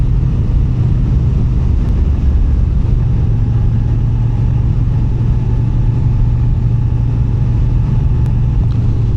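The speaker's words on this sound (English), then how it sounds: "she's just chugging up it like it was nothing" A 2022 Moto Guzzi V9 Bobber carries a heavy rider uphill, its engine chugging in a steady, loud low drone that stays even for the whole stretch.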